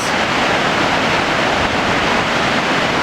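A loud, steady roar of rushing water pouring down at Kapuzbaşı Waterfall in Yahyalı, Kayseri, dense and unbroken, with no other sounds.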